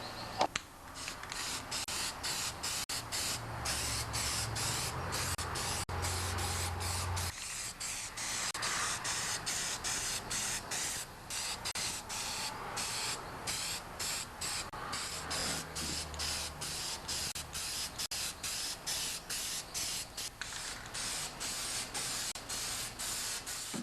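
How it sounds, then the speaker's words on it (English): Tremclad Professional gloss black spray paint hissing from an aerosol can onto a John Deere 316 tractor seat, a steady close hiss in repeated bursts with short pauses and can rattles, no talking. "I'm going to paint it with some spray paint."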